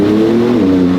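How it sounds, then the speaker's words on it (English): A Porsche 911 Turbo S of the 992 generation accelerates hard on a forest drive, its engine and turbos making a loud, close, continuous rush with a steady drone that bends slightly in pitch, and no talking over it. "I love it how you can hear those turbos whistle off."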